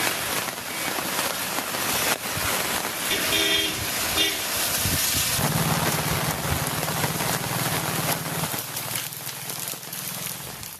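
Heavy rain pours with wind in a dense, constant hiss across the whole stretch, with a low rumble of passing traffic partway through.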